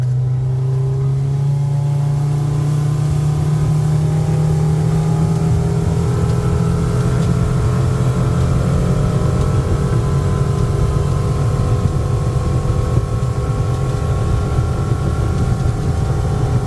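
Steady, loud drone of a motorboat engine running flat out at about 41 miles an hour, a constant roar with a slowly shifting pitch and no voices.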